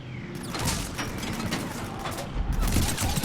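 Mass Effect 3 gunfire rattles in dense, continuous bursts of rapid shots with mechanical clatter, loud and busy throughout, with faint voices underneath.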